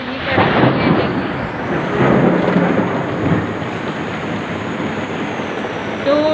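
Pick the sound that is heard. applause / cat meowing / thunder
thunder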